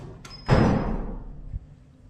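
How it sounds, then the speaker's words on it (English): A fire door on a door closer in a multi-storey car park swings shut with a heavy thud and a short ringing tail, followed by a smaller knock as it settles, with no talking. "Fuck knows why they're recording the door closed as well."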